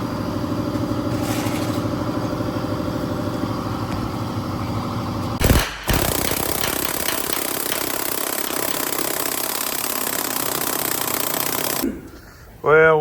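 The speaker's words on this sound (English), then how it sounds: "making all kind of racket working on putting the new spring bushings in" Loud, continuous metallic hammering and clattering in a shop as new spring bushings are driven into a truck axle, with a brief pause near the middle and a sharp break at the end.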